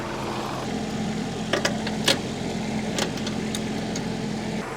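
A Kubota tractor engine in four-wheel drive drones steadily while dragging a heavy skid steer, a low continuous hum with a few brief clanks and knocks over it, nearby, no voices.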